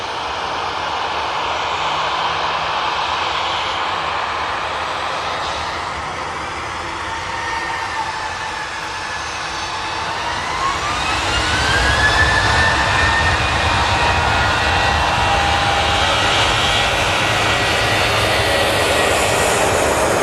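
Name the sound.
Jet2 Boeing 737-800 jet taking off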